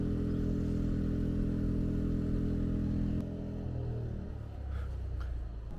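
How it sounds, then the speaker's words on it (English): A generator powering an off-grid barndominium drones loudly and steadily with a deep hum, then cuts out partway through and winds down, leaving a quieter rumble and a few faint clicks. "I should probably turn the generator off so you can hear what we say."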